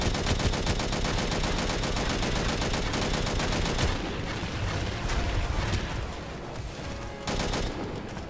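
A machine gun fires in the sci-fi combat video game Angels Fall First as dense, continuous rapid bursts with loud overlapping shots and a short pause near the end.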